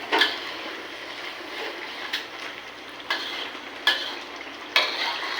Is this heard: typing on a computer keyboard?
no